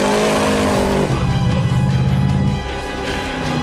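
A car with an 8.2 litre big block engine accelerates hard, its deep exhaust roar climbing through the gears loud and close, then easing off to a lower rumble.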